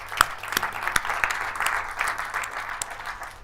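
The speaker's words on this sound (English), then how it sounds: "Can we get a round of applause for those guys" Audience at a tech conference talk gives the event organisers a round of applause, moderately loud sustained clapping with a few sharp individual claps standing out near the start.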